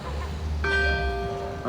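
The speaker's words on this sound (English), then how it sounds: "So the bell rang at 9 o'clock." A clock tower bell strikes at nine o'clock, one clear resonant ring with a long humming decay over low traffic rumble, then a second strike begins at the end.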